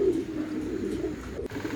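Pigeons, both flyers and breeders, coo in low, soft repeated calls at feeding time, heard close and steady with no talking over them.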